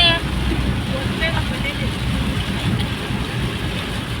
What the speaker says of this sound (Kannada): ಫುಲ್ ಜೋರು ಮಳೆ ಬರ್ತಾ ಇದೆ